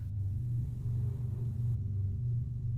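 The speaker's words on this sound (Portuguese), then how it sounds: "está tendo uma tempestade bem forte aqui na cidade do México" Thunder from a strong storm outside a house in Mexico City, a low continuous rumble that swells and fades slightly, heard from indoors, with no voices.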